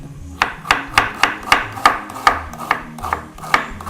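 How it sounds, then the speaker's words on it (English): Knife chopping onions on a board while cooking chicken in coconut cream, about ten crisp, evenly spaced chops in a steady rhythm, close and moderately loud. "my eyes are still burning when I'm chopping onions"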